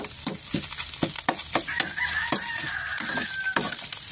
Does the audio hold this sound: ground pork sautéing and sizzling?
yes